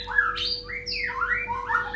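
A white-rumped shama (murai batu) calls with a run of quick, bright whistles and squawky sliding notes, close and lively, sounding over a faint steady hum.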